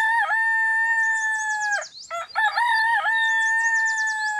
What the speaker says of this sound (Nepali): कस्तो ठुल्ठुलो छ कुखुरा त